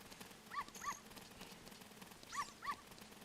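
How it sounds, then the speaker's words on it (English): A dog in The Legend of Zelda: Ocarina of Time gives two pairs of short, yipping barks, faint against a quiet game background. "We have to get this dog here."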